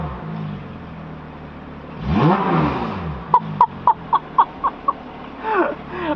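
A Porsche GT3 with an iPE F1 exhaust revs up and falls back, then fires a quick string of about seven sharp pulsing bursts before a second shorter rev, all loud and close.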